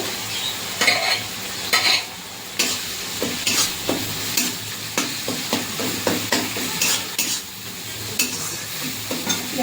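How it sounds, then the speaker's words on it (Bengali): A paste of tomato, onion, ground cumin, coriander, chilli and ginger sizzles in a pan, with repeated scraping strokes of a spatula at a steady rhythm, close and fairly loud throughout. "টমেটোটা নরম হয়ে গেছে দেখে রাখা যে জিরে ধনে লঙ্কা আদা বেটে রেখেছি এটা দিয়ে দেবো"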